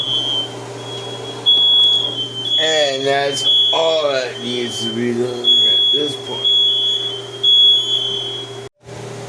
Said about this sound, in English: the alarms finally went away